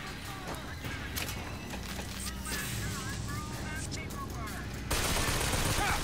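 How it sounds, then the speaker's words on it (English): Rapid gunfire in BioShock Infinite, repeated shots crackling over a busy game mix with chirping effects, growing louder and denser near the end. "Oh, he's shooting me through there."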